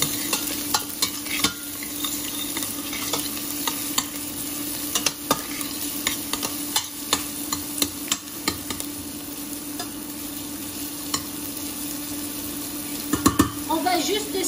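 Chopped shallots with a little garlic sweat in a pan under a steady, close sizzle, broken by repeated scraping and clicking strokes of a utensil stirring them, with a few sharper knocks near the end.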